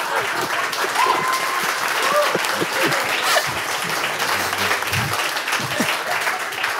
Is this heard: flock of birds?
no